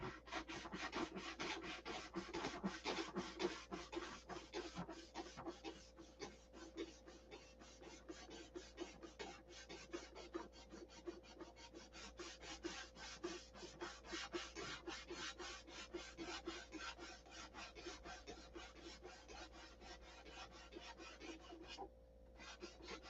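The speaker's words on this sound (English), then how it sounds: "first thing I'm going to do is scuff this up with 320" Steady rasping scrape of 320-grit sandpaper scuffing a surface before filler and primer, a continuous close stroking texture that runs without pause, with no voices.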